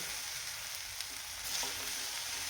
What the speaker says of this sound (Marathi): छान मिक्स करून घेतले सगळं.